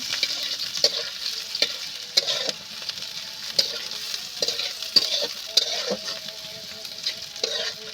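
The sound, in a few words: stirring onion and green chillies frying in a pan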